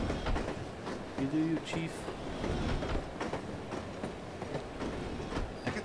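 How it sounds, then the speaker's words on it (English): Steady rumble and rhythmic clatter of a moving train in the spy video game No One Lives Forever, heard from inside the carriage, with a voice speaking briefly over it. "I love riding the train."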